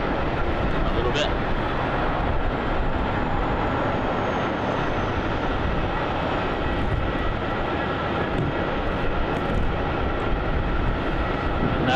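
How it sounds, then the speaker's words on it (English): A Virgin Australia Boeing 737-800 arriving from Brisbane lands on runway 16 at Melbourne Airport, its engines giving a loud, steady broadband roar throughout, with a voice talking faintly in the background. "on runway 16 Virgin Australia, flights 314 arriving in from Brisbane on a 2-hour flight on the Boeing 737-800"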